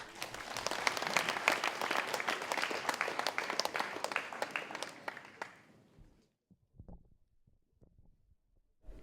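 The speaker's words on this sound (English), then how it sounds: "Please, a big round of applause to the two teams." Audience applause for two debate teams fills a hall, dense and steady for about six seconds before dying away to a few scattered last claps.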